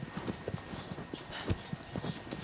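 Horse hooves galloping at a steady clip-clop rhythm in the Shadow of the Colossus video game, fairly quiet and close, with no voices.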